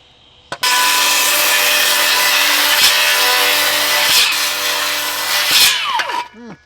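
Bosch Profactor 18V rear handle circular saw cutting wood, a sharp start followed by a loud, steady high-pitched blade whine through the cut for about five seconds, then spinning down as the motor slows.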